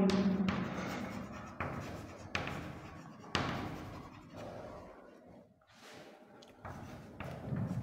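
Chalk or marker scratches across a board during a physics lesson on electric fields, in a run of quick, rasping strokes with short pauses and a few sharper taps, close and fairly quiet.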